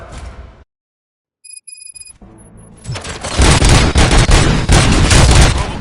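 Gunfire in the RoboCop video game: after a brief silence and some beeping electronic tones, a loud sustained burst of rapid shots and booms fills the rest of the clip.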